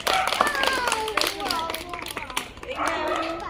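Young children in a preschool classroom clap their hands in a quick burst of close, sharp claps, mixed with an adult's voice talking over them.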